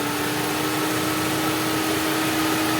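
Audi A3 1.6 MPI petrol engine idling after a cylinder head repair, a steady, loud, even hum with a constant tone and hiss and no variation; no one speaks.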